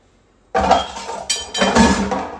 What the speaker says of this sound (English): I'm going to scrape the pot that it was in a little bit